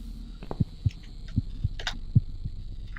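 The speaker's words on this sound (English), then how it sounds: "Ooh, a heartbeat." Heartbeat sound effect in the horror adventure game The Cat Lady, a steady low thumping pulse of soft beats repeating about every half second under a faint hum.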